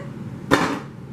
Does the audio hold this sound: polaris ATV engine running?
no